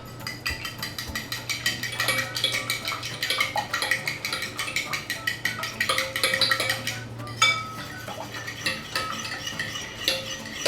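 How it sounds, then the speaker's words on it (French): Liquid cream is mixed with an egg in a bowl for muffin batter, producing quick, steady whisk clinks against the bowl and light scraping, close and clear, with a couple of louder knocks near the end. "on va mélanger la crème liquide, donc les 250 ml avec l'œuf"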